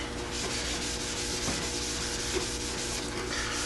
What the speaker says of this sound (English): when I'm scrubbing the top and bottom rails, I am overlapping here a little bit